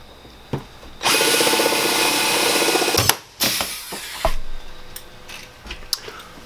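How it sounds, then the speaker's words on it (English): A short angle drill whirs loudly for about two seconds while installing ceiling tracks in a Sprinter 170 van, then stops; short bursts and clunks of tool handling follow, close and without speech. "you'll need your shorter angle drill or your whatever setup that you use to install these tracks"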